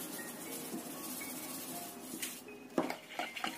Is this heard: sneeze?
no